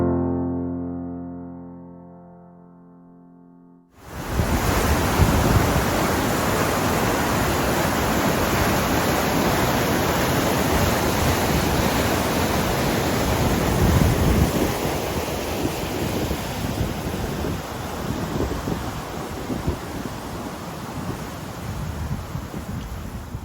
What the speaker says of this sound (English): Here we are beside the waterfall in Spiddle, County Galway. It is wonderful to watch the gushing water going out to the Atlantic Ocean